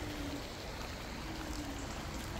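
River running through a park in Gernika, Spain, a steady, soft broadband rush of flowing water with a faint low hum in the background, no voices.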